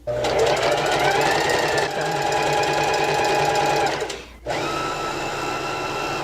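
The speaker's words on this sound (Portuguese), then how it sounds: "Vou costurar só um pedacinho, só para vocês verem o resultado." A sewing machine stitches knit fabric in a steady, loud, continuous motor whir with rapid needle chatter. It pauses briefly near the end, then resumes running.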